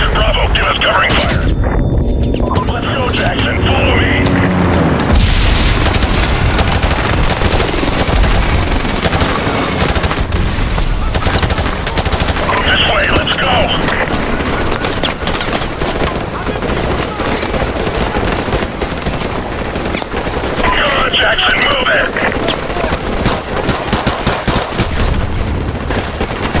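Sustained, dense gunfire from Call of Duty Modern Warfare Remastered, automatic bursts and shots rattling nonstop for the whole stretch, loud and close, with shouted voices breaking through at moments.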